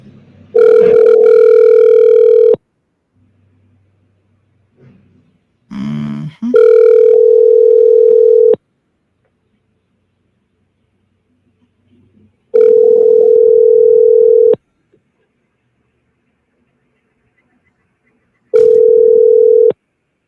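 A ringback tone sounds while calling a business by phone: loud, steady pulses of about two seconds each, separated by long silent gaps of roughly four seconds, with faint rustling between rings.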